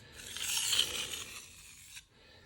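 A knife blade drawn across a King 300 splash-and-go water stone while removing the burr, one smooth rasping stroke lasting about two seconds, close and fairly quiet, then a brief pause.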